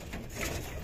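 Pigeons in a loft give a brief, soft, low coo amid a muffled, noisy background, with no voices.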